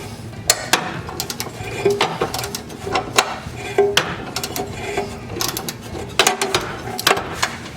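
A wrench works at a stuck nut on a Cub Cadet zero-turn mower engine, giving close metallic clicks, knocks and ratcheting scrapes in irregular bursts, with faint voices in the background.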